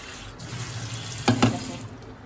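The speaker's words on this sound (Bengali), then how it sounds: "ধোয়া হয়ে গেছে, এবার ভিজিয়ে দিচ্ছি" Tap water running into a pot to wash and soak lentils, a steady close stream with a couple of louder splashes from pouring, no speech.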